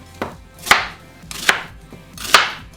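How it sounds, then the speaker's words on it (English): An onion being roughly chopped with a knife on a cutting board, three sharp, close chops spaced evenly apart with short pauses between them. "And we chop the onion,"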